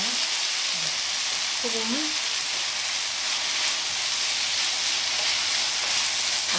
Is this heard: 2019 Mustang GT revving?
no